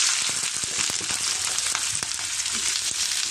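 Green onion stalks hit a hot pan with garlic, potato and turmeric for an egg fry. A loud, constant hiss of frying carries scattered clicks of a utensil against the pan, close up and with no talking.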